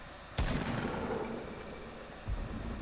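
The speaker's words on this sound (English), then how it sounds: "I hear shots around" Two heavy gunshots in a Fortnite 50 vs 50 battle royale match, a loud boom followed by a rumbling tail and a second, softer shot near the end, with no talking.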